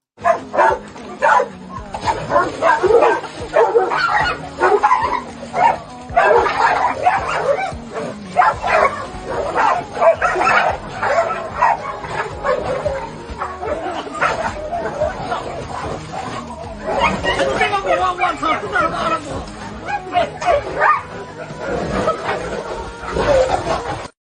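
Several dogs bark, yip and whimper during a scuffle in the woods, with continuous close, loud snarling and yelping that runs the whole time, broken by brief pauses.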